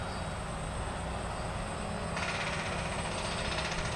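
DJI Phantom quadcopter drone flying back toward its operator: a continuous, even motor whine and hum that grows slightly brighter midway, steady and fairly close with no talk.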